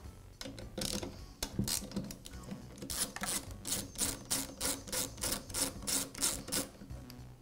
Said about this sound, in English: Now remove the two nuts that secure the air filter base to the carburetor mounting studs.